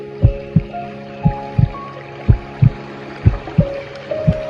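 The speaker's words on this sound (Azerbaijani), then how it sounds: "Ürək döyüntülərini eşit." A heartbeat thumps in a steady rhythm of paired low beats, loud and close, over a soft background hum during a breathing meditation.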